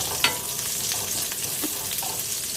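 Garlic and onion sauté in hot oil in a pan, a soft continuous sizzle with a sharp clink near the start and a few faint stirring scrapes, no voices.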